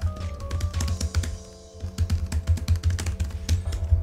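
Keys on the detachable leather-textured keyboard for a Xiaomi Pad 5 tablet being typed on, a rapid run of close, crisp clicks and taps with a short pause midway, over a low steady background hum.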